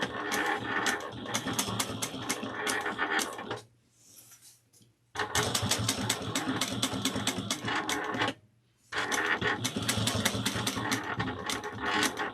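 A sewing machine stitches lanyard fabric onto cotton webbing in loud, steady, close-up runs of rapid needle clatter. Two brief pauses break up three long bursts of stitching.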